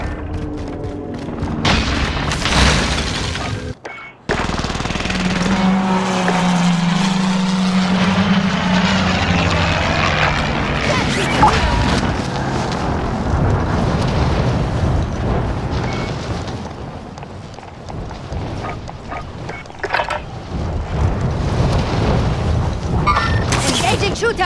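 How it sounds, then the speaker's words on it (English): Booming precision airstrike blasts from a video game shooter roll out loudly and continuously, with deep rumbling impacts and aircraft-like drone layered over a busy, dense battle soundscape. "Allied precision airstrike incoming."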